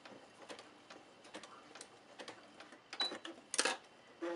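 Sewing machine back stitching a strap for a surgical cap, with light rapid ticking and clicking bursts, fairly quiet and close, broken by brief pauses.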